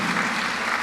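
Short burst of audience clapping at a charter school families candidate forum, a brief wash of applause that stays fairly even before cutting off.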